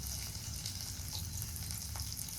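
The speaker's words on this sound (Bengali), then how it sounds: "কড়াইতে দিলাম পেঁয়াজ কুচি" Chopped onions fry in hot oil in a wok after fish was fried in it, giving a steady, dense sizzle with a low bubbling undertone that holds evenly throughout.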